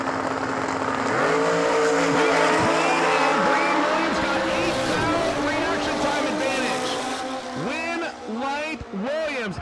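Drag racing at the New Year Nationals, including a 1968 Camaro and a two-wheeler, with loud engines revving and launching in overlapping bursts and a sharp pitch sweep as each run pulls away, while a voice talks over the roar throughout.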